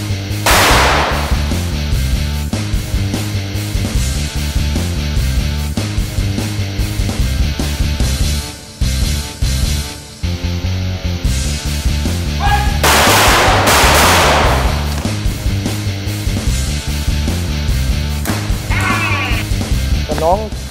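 Handgun shots ring out during a staged action scene in a Miss Thailand reality-show challenge. Loud, sharp bangs cut through dense background music, with voices talking over much of the scene.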